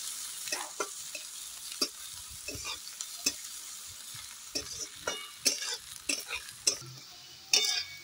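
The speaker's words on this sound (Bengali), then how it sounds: "এটা খুব ভালোভাবে লাল লাল করে ভেজে নেব" Chopped onions fry in oil in a pan, a soft steady sizzle punctuated by sharp scrapes and clinks of a spatula stirring against the metal at irregular intervals.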